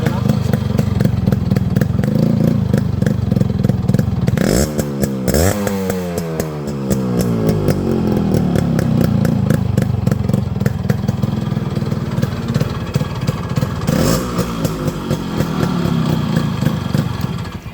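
A Yamaha RX 100 two-stroke motorcycle engine runs loud and close, a raspy buzzing idle with rev surges and a falling pitch sweep, while someone talks over it.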